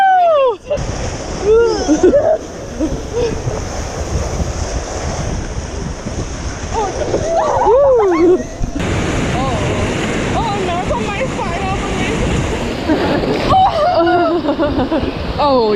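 White water rafting on the Athabasca River in Canada: rushing, roaring water and wind noise fill the whole stretch, with excited voices and shouting from the raft over it.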